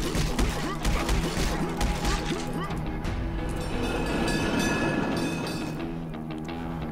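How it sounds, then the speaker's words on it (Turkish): A train rumbles past in the video game Final Exam, loud and close, with rattling rail clatter, metallic knocks and impacts layered over game noise and effects, continuous for several seconds. "Hoppa, tren geçti."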